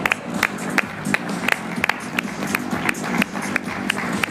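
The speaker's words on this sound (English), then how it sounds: "Let's give a nice round of applause." A crowd at the InterBike technical fashion show claps and cheers steadily, with sharp regular slaps standing out over a dense bed of applause and background voices.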